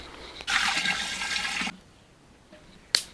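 Water pours steadily into an outdoor UTech-16 electric autoclave holding jars of fish for canning, a loud splashing rush lasting over a second, then stopping, with a brief splash near the end.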